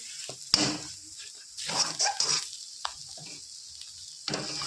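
A spoon scrapes and pushes thick mashed taro paste around a pan in short, uneven strokes, close and moderately loud, with brief pauses between strokes and a faint sizzle.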